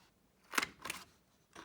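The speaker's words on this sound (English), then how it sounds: "So before I fold, I'm just going to round my corners." A corner rounder punch snips paper corners while an album is assembled: three short, crisp crunching clicks spaced about a third of a second apart, close and fairly quiet, with no talk.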